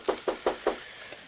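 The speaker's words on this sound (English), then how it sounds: "Sarge, if you wouldn't knock and announce." Four firm knocks on a residential door by sheriff's deputies during a police call, evenly spaced and fairly close, followed by quieter tapping sounds and a faint bump.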